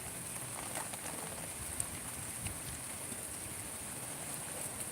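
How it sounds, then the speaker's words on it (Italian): Faint, steady, moderate rain hisses evenly throughout during a thunderstorm, with occasional soft drips and no voices. "Sta piovendo in modo normale, diciamo."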